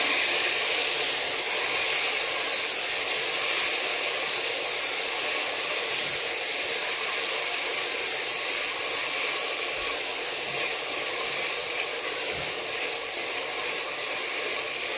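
Mixed vegetables such as cauliflower and carrot steam and sizzle in oil in a pan over a low gas flame, a steady close hiss of frying running evenly throughout with no talk.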